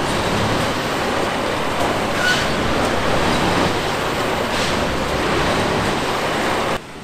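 A railway track tamping machine lifting the rails and compacting the ballast, heard as a loud, steady roaring and grinding wash of machinery that holds for several seconds before cutting off abruptly near the end.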